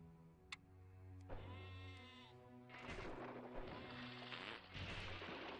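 A sheep launched as a comic shot in the video game Castle Storm bleats in long, wavering cries over a busy game background, clear and fairly close, with a couple of sharp ticks early on.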